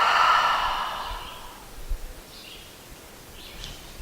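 A single long, breathy exhale during yoga breathing in Shavasana, loud and close at first, then fading into quiet room tone with faint rustles.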